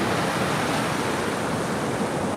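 Surf at Sawarna beach rushes in a steady, broad roar, close and loud, with wind buffeting the microphone throughout.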